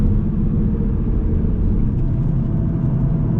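A car braking hard on the Nürburgring track, heard as a steady, loud low rumble of engine and road noise that holds unbroken for the whole moment.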